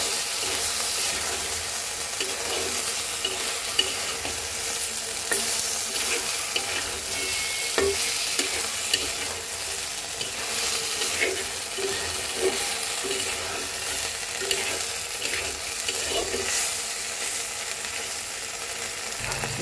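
Boiled mutton curry being stirred in a pan, steady frying sizzle with repeated scraping and clinking strokes throughout, close and continuous.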